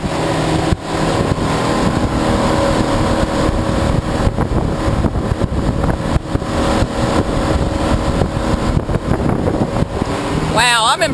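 A boat thruster motor drones continuously with wind buffeting the microphone, loud and close, broken by a brief knock near the start.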